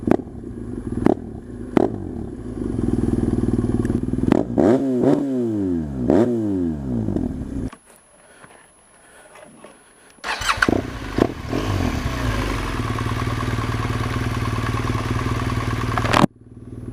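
A BMW R1200 GS motorcycle engine fires up with a sharp loud crack, then revs up and down several times, drops briefly quiet, and roars again at a steady idle.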